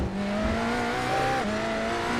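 A race car engine in the iRacing sim holds steady near its rev limiter, a loud sustained drone with a slight pitch dip and recovery midway, no voices over it.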